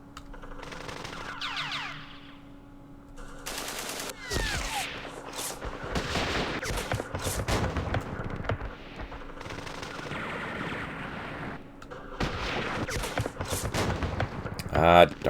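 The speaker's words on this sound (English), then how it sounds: "now let's do some heavy weapon firing" Heavy weapons fire in a Vietnam war strategy game set at Dien Bien Phu, with dense bursts of gunfire and booming shots in clusters, loud and close, with brief lulls between volleys.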